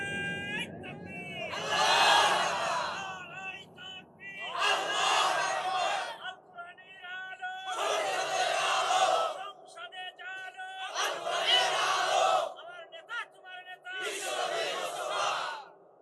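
Crowd at a Bangla religious sermon (waz) shouting slogans in repeated loud bursts of massed voices, five surges separated by brief pauses with a lone voice between.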